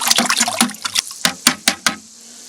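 A hive tool stirs bee feed liquid in a bucket, making a run of sloshing splashes that settle into several distinct, evenly spaced swishes and knocks before stopping, close and fairly loud with no talking.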